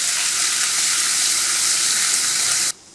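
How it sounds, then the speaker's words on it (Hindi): Chopped ginger and garlic sizzle loudly in hot oil in a pan, a steady bright frying hiss that cuts off abruptly near the end. "अदरक और लहसुन को एक बार चला लेंगे।"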